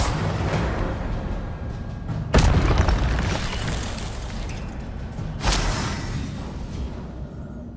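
Incendio fire spells cast in the game Hogwarts Legacy, two loud whooshing bursts of flame a few seconds apart over rumbling game ambience, with no voices.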